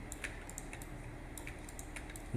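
Soft computer keyboard and mouse clicks sound while parts are selected in Roblox Studio, a sparse series of quiet taps in a calm room.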